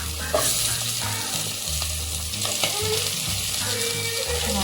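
Onions sizzle steadily in a hot pan for pakoda kuzhambu, a dense continuous crackle with occasional stirring scrapes, close and loud with no talking.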